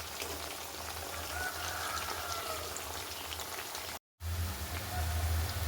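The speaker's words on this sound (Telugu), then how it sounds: "చూసారా ఎలా ఫ్రై అవుతున్నాయో," Pieces of food deep-frying fully submerged in hot oil give a dense, even crackle like light rain, close and steady, briefly cut to silence before resuming louder.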